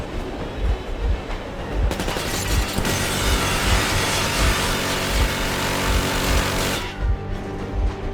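Train engine of the Aurora in Metro Exodus runs loud and close, a dense mechanical roar with a rhythmic clickety-clack and low thumps, briefly thinning near the end.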